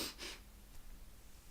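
A few quick, soft sniffs from a pet sniffling through a door close by, short airy snorts followed by quiet muffled rustling.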